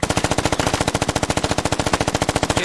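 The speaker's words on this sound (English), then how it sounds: "Oh, suppressing fire." Automatic machine gun laying down suppressing fire in the military shooter game Squad: a fast, steady, very loud stream of shots at close range, roughly ten rounds a second without a break.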